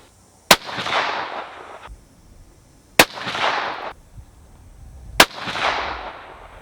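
Three rifle shots fired through an EC Tuner muzzle brake, each a sharp loud crack about two and a half seconds apart, followed by a long rolling echo that fades outdoors.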